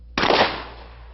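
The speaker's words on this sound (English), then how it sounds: "Here's what happens when you fire a rifled slug at 50 yards." A shotgun fires a rifled slug at a 50-yard range: a single sharp, loud blast with a long ringing decay, heard alone.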